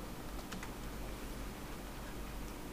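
Light keystrokes on a computer keyboard while writing code, soft irregular clicks under a steady background hiss, close and fairly faint.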